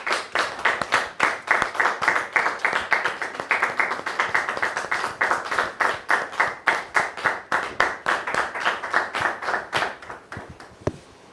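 Studio audience on a French talk show claps in steady, rhythmic unison to welcome a guest, sharp close hand claps repeating quickly for about ten seconds before thinning out and stopping.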